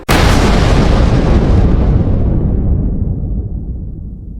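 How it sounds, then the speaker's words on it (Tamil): A meteor impact explosion sound effect opens with a sudden, very loud blast. A dense roaring rumble follows and slowly fades over several seconds. "ஒரு விண்கல் பூமியின் மீது விழும் சத்தம்"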